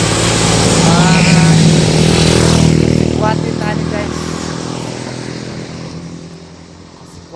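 Vehicles pass loudly on a highway, including what sounds like a motorcycle, a close rushing roar that swells and then fades away as someone talks over it.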